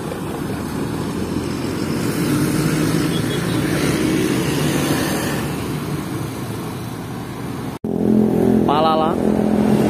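A Hino RK bus in the Laju Prima livery passes by, a loud, steady engine and tyre roar filling the first eight seconds before a brief cut, then a nearer engine rumble with a rising whine resumes.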